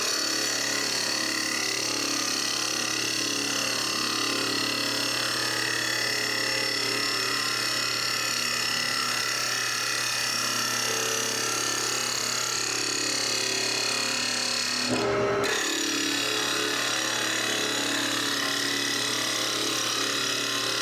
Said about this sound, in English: I'm making what's called an uphill push cut